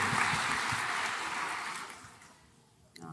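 An audience applauds during a talk about marriage, a steady wash of clapping that slowly fades away before a brief knock at the end.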